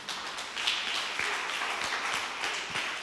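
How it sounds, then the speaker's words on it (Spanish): A church congregation applauds during a sermon, with scattered individual claps standing out over a soft, steady wash of clapping at a moderate level. "Alguien que aplaude esa palabra."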